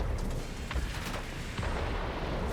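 A bomb bursts during a World of Warplanes battle involving a Beaufighter heavy fighter, heard as a dense, rumbling low boom with crackling debris spread across the clip, with no talking.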